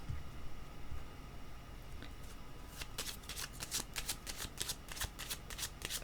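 A deck of tarot cards is shuffled by hand, a soft riffling flutter of quick repeated card slaps, faint and close, building into rapid bursts in the second half.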